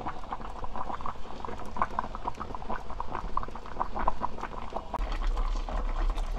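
Red sea bream and radish simmer in a pot with the lid slightly open, a steady, dense bubbling and gentle popping that continues unbroken and close up.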